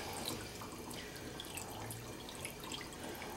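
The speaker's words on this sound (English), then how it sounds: "I'm going to add water to this, but I don't want to cover the meat." Water pouring into a pot holding corned beef, a faint, steady splashing stream with scattered drips, close by and heard without talk.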